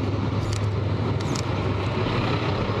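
Bus rumbling along in street traffic, a steady loud low engine drone with passing road noise, no voices.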